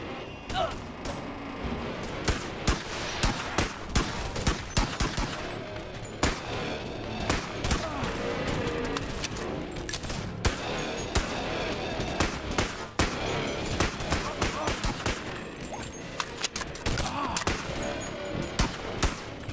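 Handgun shots from the Boneworks VR game, fired rapidly in dense, irregular bursts of sharp cracks that continue almost nonstop, fairly loud and close.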